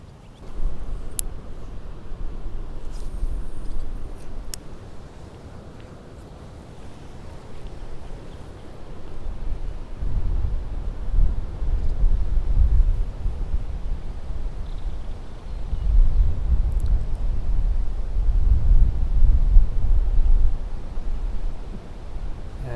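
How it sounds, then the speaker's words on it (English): Gusty wind buffeting the microphone beside water while fishing for bluegill from the bank, a low rumbling roar that swells and fades in waves, strongest in the second half, with no talk. "The wind is a little bit too much."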